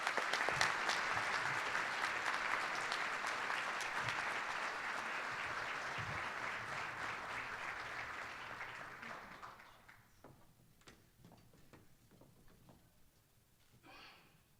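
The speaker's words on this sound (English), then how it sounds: "Let's give her another round of applause" An audience at a Sunday night celebration gives a full round of applause, dense sustained clapping that fades to a few scattered claps after about ten seconds.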